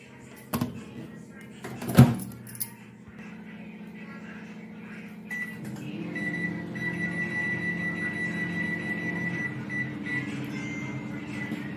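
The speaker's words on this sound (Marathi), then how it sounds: "आता आपण ह्याला ओव्हन मध्ये ठेवणार आहोत." A cake goes into a preheated home oven for baking, with a sharp knock and clatter near the start followed by a steady low hum and a faint high whine from the running oven.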